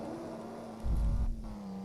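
A truck in the video game Truck Simulator: Ultimate accelerates, its engine drone rising into a brief, louder low-pitched surge before settling back to a steady hum.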